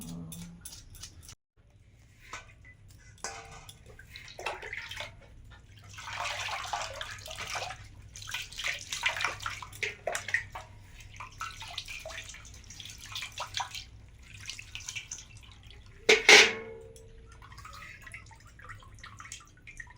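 Hilsa fish is rinsed under running water in scattered splashes and trickles, with a sharper clatter near the end and no talk.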